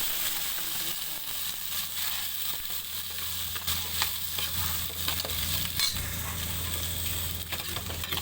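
Shrimp fry in very hot oil in a pan, giving a dense, loud, continuous sizzle mixed with stirring scrapes and occasional sharper spits.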